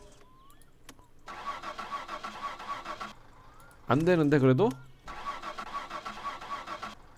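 A car engine in My Summer Car cranks and fails to catch, one short loud grinding burst standing out between stretches of steady background hum, with someone speaking Korean briefly.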